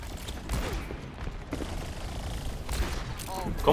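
Scattered gunfire and mechanical weapon sounds in a competitive Overwatch match, bursts of shots mixed with clicks and creaks over busy game ambience, rising sharply at the very end.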